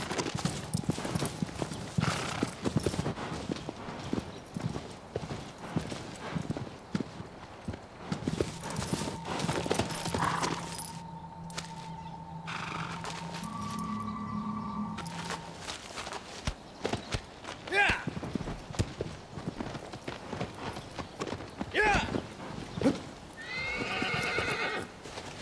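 Clip-clopping horse hooves beat steadily through a long stretch of Shadow of the Colossus gameplay, joined late by a loud neigh, all under ongoing game music and ambience.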